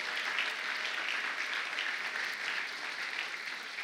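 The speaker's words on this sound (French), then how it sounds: "Est-ce que quelqu'un peut acclamer le Seigneur?" A church congregation applauds steadily to acclaim the Lord, a dense, even wash of many hands clapping with no break throughout.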